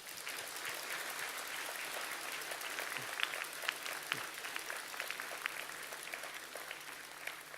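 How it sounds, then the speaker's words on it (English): Graduation audience at the SMU commencement opening ceremony in Singapore applauding, a steady, moderately distant wash of clapping that holds evenly throughout with occasional sharper claps. "Let's give a round of applause to Arnold."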